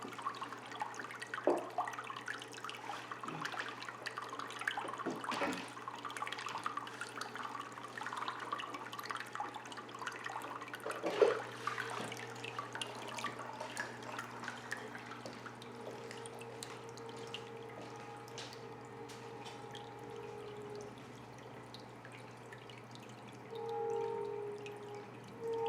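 Marineland Penguin Pro 275 power filters running, giving a steady rush of splashing, trickling water with no audible motor, continuous at moderate level throughout.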